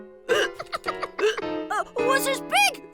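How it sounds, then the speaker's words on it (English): A cartoon boy in a kids' animated episode hiccups repeatedly, sharp voiced gulps scattered among spoken lines from a voice in the same close, clear studio recording. "Oh, I've got to get rid of these hiccups."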